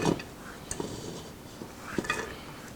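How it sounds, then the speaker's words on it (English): Ham and Great Northern beans being dropped into a cooking pot, a few scattered soft clunks and light metallic taps spread unevenly over a few seconds against quiet kitchen background. "I'm just going to put these all in my pot"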